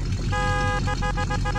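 Truck horn in Farming Simulator 2017 sounding a steady tone, then several short repeated toots over a low engine hum.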